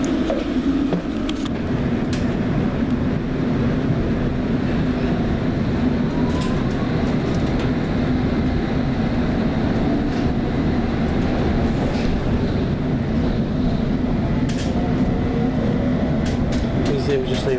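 A London Underground train heading toward Baker Street runs steadily, a constant low rumble and rattle heard from on board a carriage, with faint clicks and a passenger's voice in the background.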